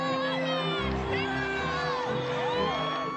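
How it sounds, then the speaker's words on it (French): Excited crowd on the boulevard Saint-Germain in Paris around a politician: loud continuous cheering, whoops and shouting voices blend with high whistles and singing tones, steady from start to end. "Ségolène Royal remontant le boulevard Saint-Germain dans une foule en délire."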